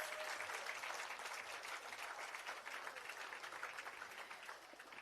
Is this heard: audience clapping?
yes